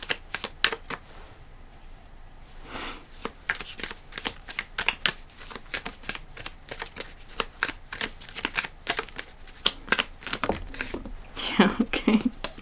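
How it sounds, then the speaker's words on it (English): An oracle card deck is shuffled by hand, producing rapid papery riffles and flicks that run almost continuously, close and crisp, before a card is drawn. "I'm going to pull one more card from the Animal Apothecary deck."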